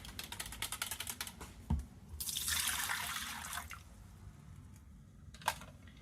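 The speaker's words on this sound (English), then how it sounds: "So I'm going to give this a little whisk up" Yeast mixture being whisked in a bowl for crusty bread rolls, a brisk scratchy burst of about two seconds, close and fairly loud, framed by soft clinks and light handling noises.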